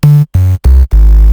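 Four deep 808 bass notes in a row, each a booming sustained tone stepping down in pitch, the last one held longest and loudest.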